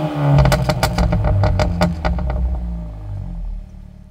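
Fiat Fastback Abarth Turbo 270 with a very loud exhaust, revving hard in sharp repeated blips that crackle, then settling into a steady low rumble, close and alone.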